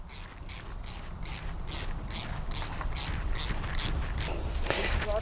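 An earth cable clamp being tightened onto an earth rod: a steady train of about a dozen sharp ratchet clicks at an even pace, close by, over a constant outdoor background hum.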